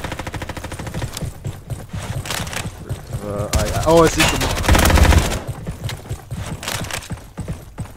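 Machine gun fire rattles in the Roblox shooter Frontlines, rapid bursts at close range swelling into a dense, louder stretch midway, while a player speaks briefly over the shooting.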